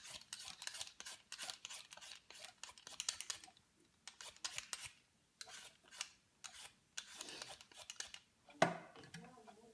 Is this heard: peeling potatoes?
yes